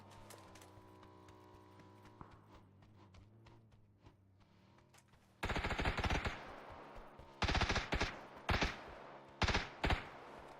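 Bursts of rapid gunfire in the PUBG battle royale game, loud clustered volleys repeating several times after a quieter stretch of low game ambience.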